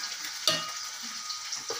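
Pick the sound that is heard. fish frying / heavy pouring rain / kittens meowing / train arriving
fish frying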